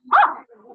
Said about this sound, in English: Dogs in the house.